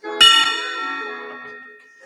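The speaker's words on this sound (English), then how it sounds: "Ring a bell for him." A single bell is struck once and rings out clearly, its bright metallic tone sustaining and slowly fading over about two seconds with nothing else heard.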